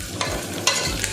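Potato pieces sizzling and being stirred in hot oil with softened onions for soya chunks biryani, a steady close fry with a few sharp scraping stirs.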